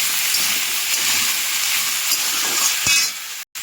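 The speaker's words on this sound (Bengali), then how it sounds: "এবার কেটে রাখা পেঁয়াজগুলো আমি এর মধ্যে দিয়ে দেবো এবার একসঙ্গে ভালো করে লাল লাল করে ভেজে নেব" Potatoes, cauliflower and chopped onions fry together in oil in a pan, a loud continuous close sizzle with a faint clink just before it cuts off abruptly.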